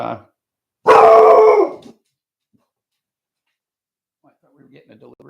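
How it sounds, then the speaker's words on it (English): Indoor dogs let out a loud burst of barking and howling lasting about a second, followed by silence and then faint, distant talking. "I think the dogs are pissed."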